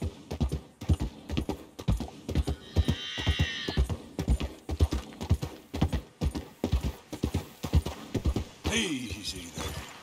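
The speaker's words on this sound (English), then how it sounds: "a couple of horses" Several horses trot in Red Dead Redemption 2, their hooves making a steady, close clip-clop that runs the whole time, with a brief whinny or snort near the end.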